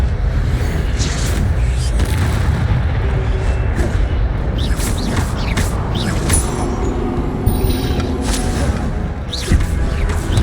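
Incendio fire spell effects in Hogwarts Legacy on PC, a steady rumbling whoosh with sharp crackling bursts and mechanical clatter throughout, loud and continuous with scattered brighter impacts near the end.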